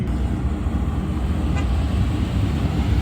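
A loud car rumbles past at a night car meet, a close, heavy low engine roar filling the whole short stretch with traffic-like noise.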